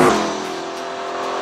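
A V8 engine in an Aston Martin V8 Vantage S revs in a brief, loud burst. A sharp rise at the start fades into a sustained, raspy roar, with no voices.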